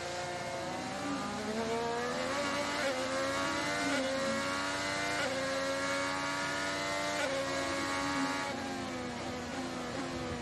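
An IndyCar race car driven by Josef Newgarden at The Thermal Club screams through a session lap, its high engine pitch rising and falling with gear changes, heard on board and continuous.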